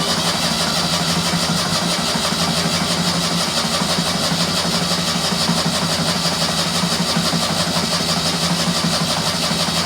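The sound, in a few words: car engine starting and idling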